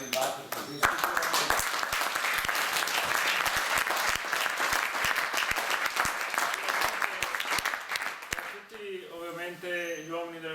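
Audience at a public debate on the mafia in Tolmezzo claps loudly for several seconds, a dense, sustained round of applause that dies away as a voice begins talking at the end.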